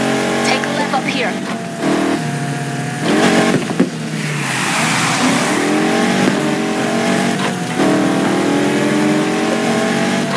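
A race car in the Need for Speed Heat video game revs and accelerates in rising, shifting engine sweeps, loud and close, under ongoing character dialogue.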